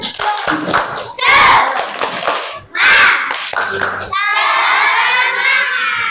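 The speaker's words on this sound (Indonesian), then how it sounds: "Tepuk semangat." Fourth-grade pupils in an elementary school classroom chant together and clap in rhythm during a spirit clap. A teacher's voice and the children's shouting mix with the claps, and a sustained burst of clapping and cheering comes at the end.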